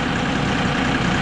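A boat engine idles while it warms up, a loud steady low rumble with a fine continuous chug at close range and no voices.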